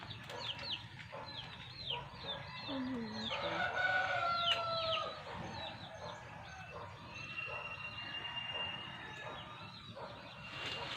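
Hens cluck and chatter throughout while a rooster crows loudly in the middle, with other birds calling faintly in the background outdoors.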